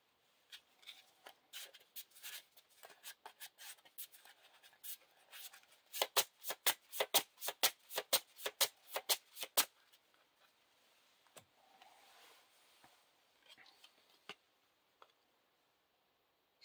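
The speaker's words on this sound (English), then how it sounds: "And we shuffle all these into the encounter deck." Rapid riffling of cards from a Lord of the Rings card game encounter deck in several bursts, a quick flurry of crisp snaps in the middle, then a few softer shuffles and taps, close and alone.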